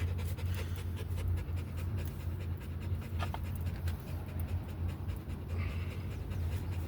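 A dog pants rapidly and steadily close by while out near a fort, with continuous rhythmic breathing over a low engine-like hum and some faint background noise.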